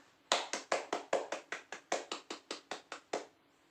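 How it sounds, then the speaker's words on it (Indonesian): A classroom of children clap hands in a burst of about fifteen sharp, evenly spaced claps, close and fairly loud, with no talking over them. "Boleh tepuk tangan dulu untuk kita semua."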